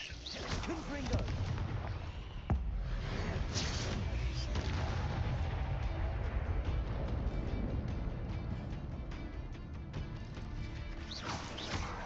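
Spell blasts from the Confringo fire spell in the video game Hogwarts Legacy, with loud continuous explosive booms and crackling bursts filling the whole stretch alongside dense game effects.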